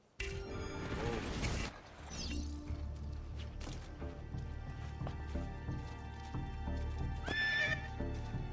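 A horse in the Assassin's Creed II video game whinnies loudly at the start and again near the end, and hooves clip-clop in an uneven gallop beneath scattered game clatter and thuds.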